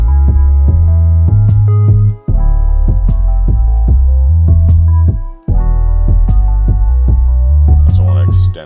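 Electronic music track with sustained chords, a plucky lead melody and a deep bass line, played loud and close with a steady rhythm and two brief dropouts between chord changes.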